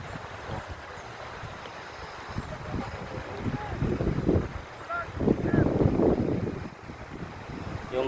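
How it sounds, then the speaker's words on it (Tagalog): Steady broadband rush of a strong flowing water current in Tanay, Rizal, loud and continuous, swelling briefly midway, with wind buffeting the microphone. "napakalakas yung tubig. Hindi talaga humihina yung tubig dito."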